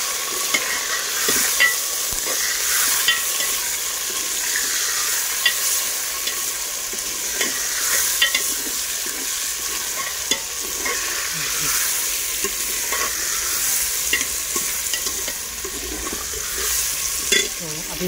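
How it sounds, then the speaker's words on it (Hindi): Chicken pieces with onions fry in a pan while being stirred, giving a steady loud sizzle throughout with repeated scraping stir strokes and no talking. "चिकन की भुनाई करते हैं।"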